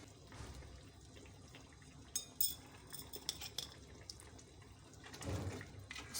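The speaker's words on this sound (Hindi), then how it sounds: "इसको मैं मिक्स कर दूँगी अच्छी तरह से।" Beef yakhni is stirred and mixed in a pot, with scraping and clinking of a utensil against the metal, faint watery sloshing, and a louder burst of rattling near the end.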